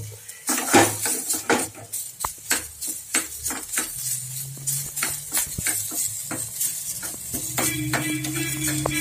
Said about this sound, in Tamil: அடுத்தது இந்த சூட்லேயே நம்ம வந்து கருவேப்பிலை பச்சை மிளகா இஞ்சி இதெல்லாம் வறுக்க போகிறோம்